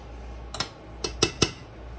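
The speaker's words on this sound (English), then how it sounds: "Just want to gently stir them and make sure that they're all still coated in the gravy." A utensil stirs Swedish meatballs coated in gravy in a pan at a low simmer, giving four sharp clinks and scrapes against the pan, close and clear over a quiet background.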